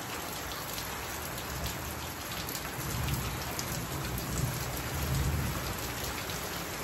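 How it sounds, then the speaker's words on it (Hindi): Heavy rain pours steadily, a dense continuous hiss of drops with no voices. "बहुत मूसलाधार बारिश होती दिखाते मैं आप मतलब ये देख सकते हो।"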